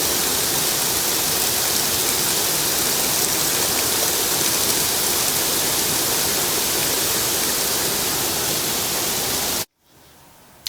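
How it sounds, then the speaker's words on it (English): A heavy rain downpour hisses steadily and loudly as a dense wash of sound, then cuts off abruptly near the end. "A little downpour."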